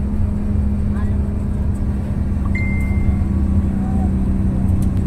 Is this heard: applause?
no